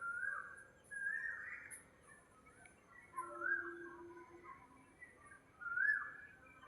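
An Asian koel gives rising whistled calls outdoors on a morning walk, three or four clear phrases repeated a couple of seconds apart, moderately distant over a quiet background.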